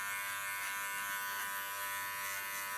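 Electric hair clippers shaving up a short neckline in a salon, a continuous close, bright buzzing hum that holds steady throughout without any talk.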